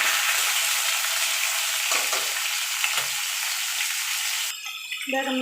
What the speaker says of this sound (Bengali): এগুলোকে আমি মিনিট খানিকে একটু নাড়াচাড়া করে নেবো তেলের সঙ্গে